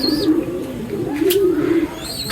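Pigeons coo with a low, throaty, rolling call close by, and faint chirps sound in the background.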